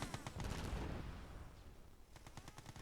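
A Gatling gun in Yuri's Revenge fires in dense rapid bursts, a loud rattling barrage that fades midway and then returns in a quick string of shots.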